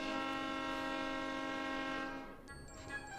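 A sustained, loud train horn from the video game Grim Fandango blares as one long chord, then cuts off and leaves faint game ambience behind.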